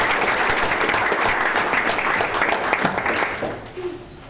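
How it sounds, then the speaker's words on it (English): A round of applause at a Baldwin City school board meeting, steady room-filling clapping that holds for several seconds and then tapers off near the end. "but let's give them a round of"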